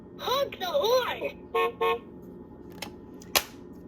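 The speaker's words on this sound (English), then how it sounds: "H. Horn. Honk the horn." A LeapFrog fridge phonics alphabet toy plays a short electronic horn-honk effect, a couple of brief bright beeps after a spoken letter prompt, with a sharp click at the end. A synthesized voice speaks during part of the clip.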